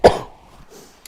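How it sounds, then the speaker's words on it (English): A single sharp, loud cough from a person on a live model-train stream bursts out at the start, then fades into quiet room noise with a faint click near the end. "Cough, cough, cough."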